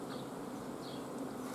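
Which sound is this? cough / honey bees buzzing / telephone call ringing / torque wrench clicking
honey bees buzzing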